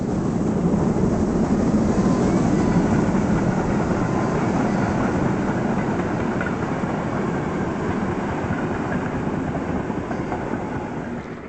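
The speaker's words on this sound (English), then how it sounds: "The principal train of the day was the 1300 Hof Saarbrücken Frankländer, on this occasion worked by 201 Pacifics." A DB class 01 Pacific steam locomotive hauling an express passenger train rumbles past steadily with a loud, continuous roar of wheels and engine, fading slightly toward the end.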